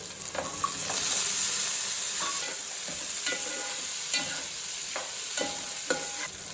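Soaked cashews fry for chicken pulao in a pan with steady, close sizzling and hiss, broken by repeated scraping stirs of a spoon, loud throughout with no talk.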